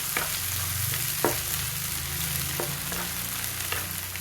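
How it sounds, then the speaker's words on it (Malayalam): Fish fries in hot oil in a pan with a steady, close sizzle and occasional clicks of stirring, no voices. "അത് നമുക്ക് ഇതിലിട്ടെടുത്തിട്ട് നല്ലോണം ഒന്ന് പൊരിഞ്ഞ് കിട്ടട്ടെ"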